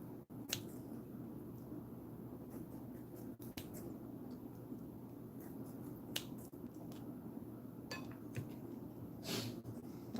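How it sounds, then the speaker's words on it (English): Kitchen shears snipping through raw chicken give sharp, sparse clicks and wet squishes over a quiet, low room hum, with irregular cuts spread across the stretch. "I grab kitchen shears and then I just cut it"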